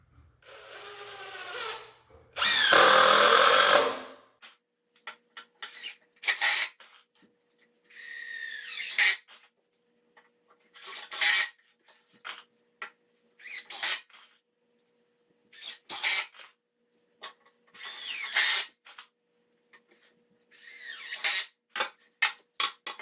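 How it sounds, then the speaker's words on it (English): A power drill drives screws into a wooden motorcycle repair stand, in a dozen or so short, sharp whirring bursts separated by pauses, the first few longer and louder, with faint handling noises between them. "I'm going to just screw it together."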